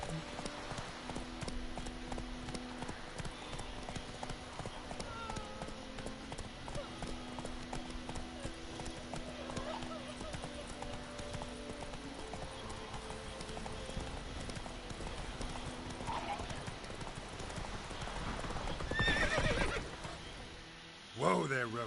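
Roach, a horse in The Witcher video game, trots with steady clip-clop hoofbeats and gives a loud neigh near the end, with faint talk in the background.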